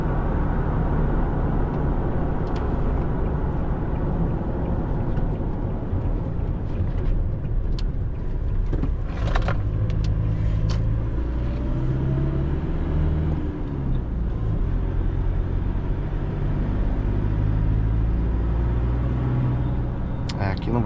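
A Toyota Hilux CS GR Sport turbo diesel pickup accelerates on the road, its steady, loud engine drone and tire rumble filling the cabin while people talk over it throughout.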